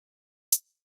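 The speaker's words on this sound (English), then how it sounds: "We have some closed hi-hats." Closed hi-hat drum samples with reverb at original pitch for a dubstep track: two short, bright, crisp ticks about half a second apart, each with a brief reverb tail, alone against silence.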